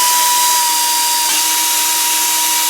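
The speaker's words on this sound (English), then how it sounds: "compare to the air drill" An air drill spins a hole saw through wood, a steady high-pitched whine with a constant tone and a brief dip partway through, loud and close with no talking.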